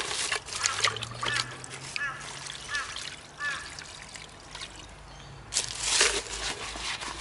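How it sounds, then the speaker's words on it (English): Water is poured into a plant pot to swish it out, giving uneven trickles, dribbles and small splashes that come and go in short bursts, with a louder splashing pour near the end and a low hum underneath. "A little bit of water to swish it out."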